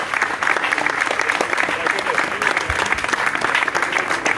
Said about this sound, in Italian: Un applauso a Lorenzo.